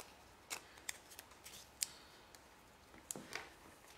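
Scissors snipping ribbon for a faux bow on a hostess gift, a few sparse quiet clicks and cuts spread over a few seconds, close but faint.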